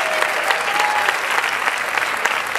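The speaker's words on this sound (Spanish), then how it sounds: "el mayor de los aplausos se lo vamos a dar todos los que estamos en el escenario a este maravilloso público que hemos tenido esta noche" Audience applause fills a drag queen gala at the 2014 Maspalomas Carnival, a dense, steady wash of many hands clapping close and loud throughout with no speech over it.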